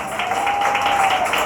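A church congregation applauding during a Sunday morning service: dense, steady clapping from many hands with a sustained tone lingering underneath, continuous and fairly loud throughout the brief stretch.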